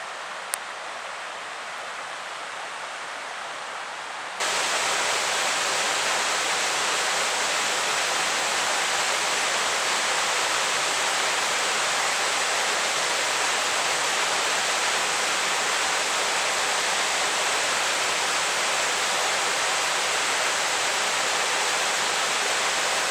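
A waterfall seen while wild swimming on a rainy day gives off a loud, steady broadband roar of falling water that runs unbroken, preceded by a few seconds of quieter rushing.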